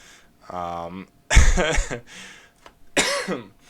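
A person coughs several times in quick bursts close to the microphone, harsh and throaty, with a short voiced sound before the coughs.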